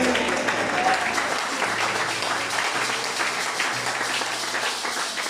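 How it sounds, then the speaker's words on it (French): A church congregation applauding during a French-language service, dense sustained clapping from many hands filling the room, with a voice talking over it. "Est-ce qu'on peut applaudir pour le Seigneur?"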